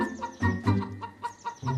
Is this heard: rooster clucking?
yes